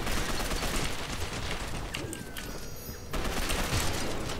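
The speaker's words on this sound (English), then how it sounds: "I think he's using like one of the submachine guns, but it's just destroying me" Rapid submachine gun fire in the online shooter Gotham City Impostors, a dense continuous burst of shots filling the mix, briefly thinning midway before resuming loud and close.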